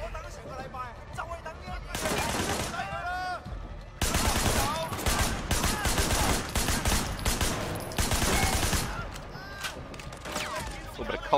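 Gunfire in the video game Sleeping Dogs, with dense bursts of rapid shots in bands separated by short lulls, heard over overlapping game voices.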